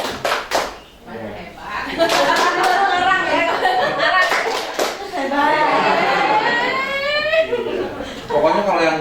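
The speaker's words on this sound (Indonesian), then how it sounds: "Tepuk tangan. Hebat." Scattered clapping from an audience at a school dissemination session, with a few loud claps at the start and then steady applause mixed with children's voices and chatter.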